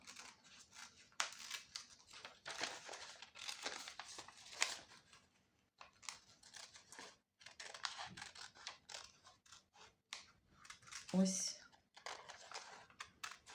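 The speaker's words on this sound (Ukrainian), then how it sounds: "Ось зараз я вирізаю ті шматочки, які є такого кольору, як нам потрібно" Scissors snip out pieces of coloured paper for a collage in irregular bursts of crisp cuts and rustling paper, close and quiet, with a voice speaking at times.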